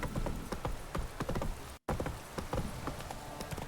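Roach the horse gallops in The Witcher 3, a steady run of hoof clip-clops close up and loud, interrupted by a brief gap of silence halfway through.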